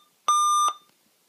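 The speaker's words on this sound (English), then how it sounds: "because otherwise that's going to beep forever" A Dell XPS 13 laptop reporting a memory error sounds a single sustained electronic beep, a clean steady tone about half a second long with a quick tail, alone and close.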